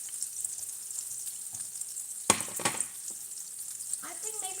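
Arayes fry in quite a lot of oil in a pan with a steady close sizzle, punctuated by two sharp clatters of handling partway through and some crackling toward the end.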